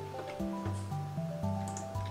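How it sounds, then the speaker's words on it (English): Water in a Minecraft cave gives a soft dripping, trickling wash beneath steady tonal game sounds, faint and continuous. "I hear water."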